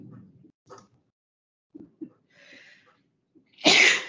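A single loud sneeze bursts out near the end during a Commission on Aging meeting, preceded by scattered quiet voices and small room noises.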